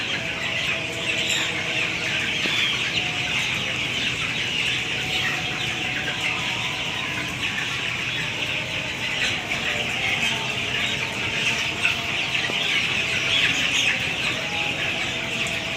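Many 18-day-old chickens clucking and murmuring together in a poultry shed as they drink water, a steady, busy chorus with occasional louder squawks rising above the crowd noise.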